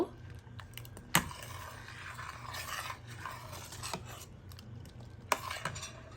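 Orange and strawberry pieces being mixed in a bowl for a chilled sago and milk dessert, with soft repeated spoon strokes and a couple of sharp clinks against the bowl, close and fairly quiet, no voices.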